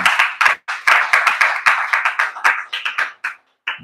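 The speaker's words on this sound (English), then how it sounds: "Can we give a round of applause to Leah Foundation?" A crowd at a livestock empowerment program claps for Leah Foundation: loud, sharp, rhythmic hand claps close by, thinning out toward the end with a brief pause and a final clap.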